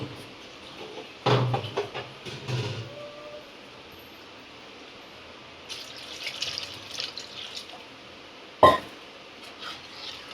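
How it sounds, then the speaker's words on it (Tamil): Water poured from a vessel into a cooking pot while preparing a vegetarian meal: a few short splashing bursts, a longer stretch of trickling, and one sharp splash near the end, close and fairly quiet. "தண்ணி வந்து எவ்வளவு தேவையோ அவ்வளவு ஊற்றிக்கும்"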